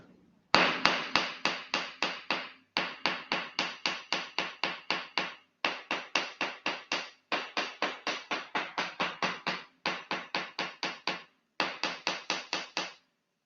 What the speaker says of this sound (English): So now I'm trying to hammer.